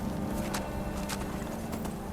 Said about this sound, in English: I don't even know what's up with this horse. It's not supposed to be following me.